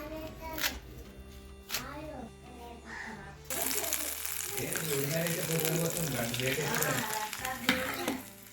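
Spices tempering in hot oil for a dosa breakfast, a loud sizzle bursting in partway through and crackling steadily to the end, with a voice talking over it.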